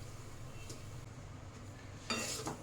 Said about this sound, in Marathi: याला कंटिन्युअसली हलवत परतून घ्यायचं आहे